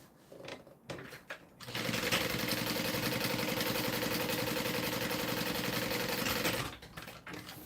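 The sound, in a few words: sewing machine sewing a top stitch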